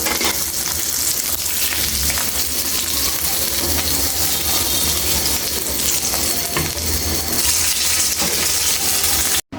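Hilsa fish tails frying in hot oil, a loud constant crackling sizzle with stirring scrapes, cut off abruptly at the end.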